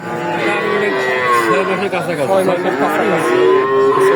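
Cattle at a rural livestock market moo in long, loud, overlapping calls close by, with crowd chatter in the background.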